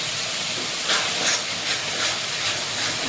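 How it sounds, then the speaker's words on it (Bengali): Spices fry in a pan with a steady, close, bright sizzle that holds evenly throughout, with slight swells of hiss. "ভালোভাবে মশলা কষিয়ে নেব।"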